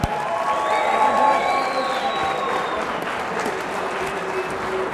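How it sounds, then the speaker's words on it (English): Crowd applause and cheering for two fighters after a bout at a FIGHT UK event, a continuous wash of clapping and shouts from a large audience, with sustained tonal whistling and voices layered on top. "Let's have a round of applause for both warriors."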